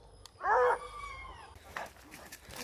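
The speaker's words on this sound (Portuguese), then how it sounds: "O cachorro tá tudo solto." Hunting dogs loosed during a wild boar hunt give a loud yelping bark followed by fainter whines and distant yips outdoors.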